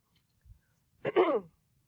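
A single sneeze bursts out nearby after a faint thump during a maths class, short and explosive in an otherwise quiet classroom.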